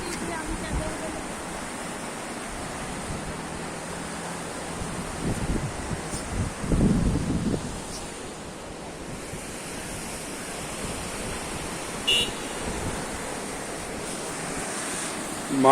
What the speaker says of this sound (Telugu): బ్రిడ్జ్ కింద నుంచి వాటర్ వెళ్తున్నాయి.